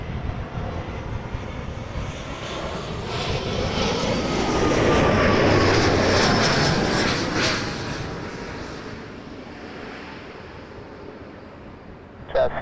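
A passenger airliner takes off from runway 05 at Toronto Pearson Airport, its engine roar swelling to a loud peak, then fading into the distance as it climbs away.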